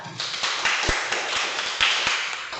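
A few scattered hand claps, several people clapping briefly and unevenly, with a low murmur of voices in the background.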